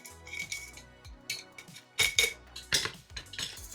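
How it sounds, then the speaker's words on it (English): Metal lids being screwed onto glass sprouting jars holding broccoli seeds in about two inches of water, a series of close scraping clinks and rattles in bursts, louder toward the end, with no talking. "Now we're going to take those lids and screw them on."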